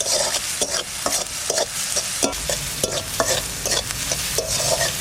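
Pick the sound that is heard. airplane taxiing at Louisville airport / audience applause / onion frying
onion frying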